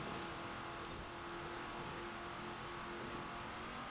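Lamborghini Countach engine in Forza Horizon 4 droning steadily and loud for the whole stretch, a continuous mid-pitched roar with a faint whine and no pauses.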